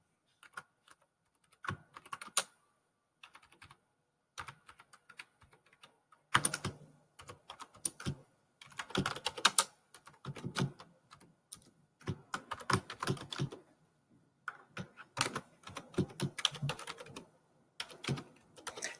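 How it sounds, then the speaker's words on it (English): Typing on a computer keyboard while building PowerPoint slides, irregular bursts of close, crisp key clicks separated by short pauses throughout. "Remember, I'm typing over here on the left."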